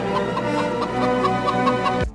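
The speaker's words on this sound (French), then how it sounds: "Une poule sur de la glace." A chicken on ice clucks repeatedly in a rapid, steady rhythm, loud and close, stopping abruptly.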